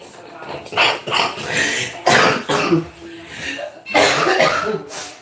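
Several harsh coughs burst out in quick succession, close and loud, with bits of voiced sound between them.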